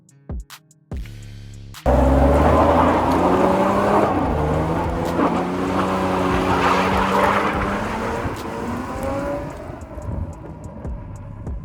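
A BMW E36 320i with its six-cylinder engine starts up and drives on a race track, a loud, steady engine drone heard close from inside the car with rising revs and no talk.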